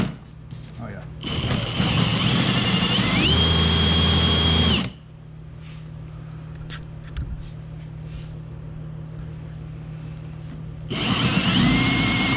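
A Ridgid K9-12 flexshaft drain cleaning machine whirs up in two loud bursts, its motor pitch climbing then cutting off, with a quieter hum between the runs.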